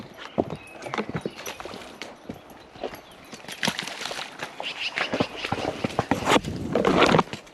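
A saddled horse trots away from a barn on a morning ride, its hooves striking in a quick, even clip-clop rhythm that grows louder and closer toward the end.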